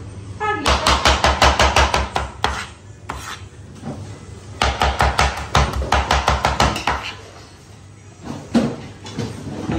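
Spices for chicken noodles are pounded into powder with a loud, steady rhythm of dry, crunchy strikes in two long bursts, then a few slower hits, close and clear with no talk.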